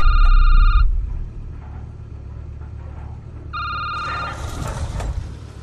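An old-style telephone bell rings in Resident Evil 8, a loud burst at the start and another a few seconds later, with quieter game ambience and some noise between the rings.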